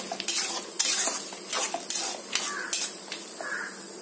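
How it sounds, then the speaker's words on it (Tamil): Goat blood frying in a pan, stirred with a utensil for a Tamil-style fry: soft sizzle with repeated scraping strokes and metallic clinks against the pan, close up with no voices. "அடி பிடிக்காத அளவுக்கு லைட்டாக கிண்டி விட்டுக்கிட்டே இருங்க"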